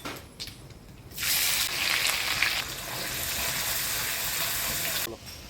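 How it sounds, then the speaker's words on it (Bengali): Chopped onions dropped into hot oil with whole cumin, dried chillies and bay leaf, a sudden loud hissing sizzle that settles into steady frying for several seconds before stopping, with quiet clatter at the start. "পেঁয়াজটা ভাজা ভাজা হয়ে আসছে"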